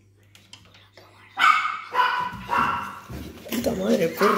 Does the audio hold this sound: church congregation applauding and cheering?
no